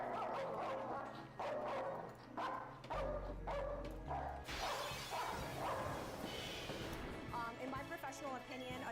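An aggressive dog at a groomer barks and yips in repeated sharp bursts, with whimpering and a clattering crash in the middle, while people talk underneath.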